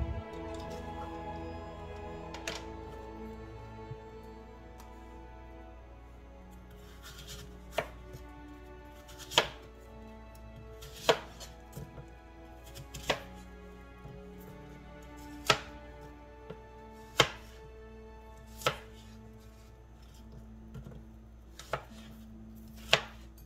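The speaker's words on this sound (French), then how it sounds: "On va couper les pommes en tout petits morceaux et mettre ça dans une casserole." Knife chopping apples into small pieces on a cutting board, sharp regular taps steadily picking up pace, close and fairly quiet with no talking.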